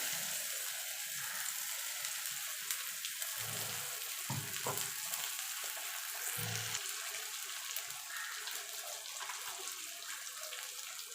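Long bean paste, ground without water, sizzles as it goes into fried onions in a pan. A steady frying hiss runs throughout, with a few brief low thumps and stirring sounds and no talk.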